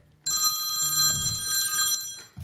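A telephone rings in a township committee meeting room, a steady electronic trill that starts abruptly and carries on loud for about two seconds, with faint low room murmur beneath.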